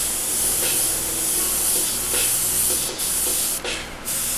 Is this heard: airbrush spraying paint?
yes